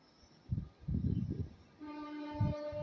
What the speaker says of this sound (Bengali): এ দেখো, ট্রেন যাচ্ছে, শুনতেই পাচ্ছ আওয়াজ